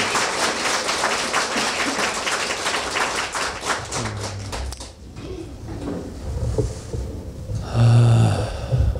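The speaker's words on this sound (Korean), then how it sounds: "여러분 환영의 박수로 우리 무도사을 환영해 주시면 고맙겠습니다" Audience applause welcoming a speaker at a church multicultural family gathering, a dense patter of many clapping hands that thins and fades midway, followed by a short burst of louder clapping near the end.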